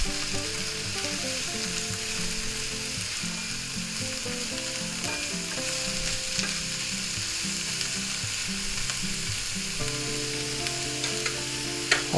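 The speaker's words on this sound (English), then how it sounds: "Give them a little stir." Poblano peppers and onions fry in a pan, a continuous close sizzle with stirring scrapes and clinks mixed in, ending with a sharper knock.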